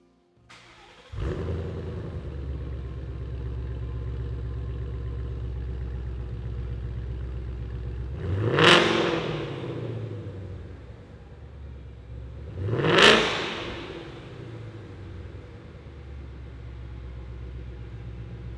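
A 2015–2017 Ford Mustang with an LTH cat-back exhaust fires up, settles into a steady, deep, rumbling idle, and gives two sharp throttle revs several seconds apart, close to the microphone.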